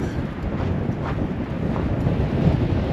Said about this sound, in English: it's windy back here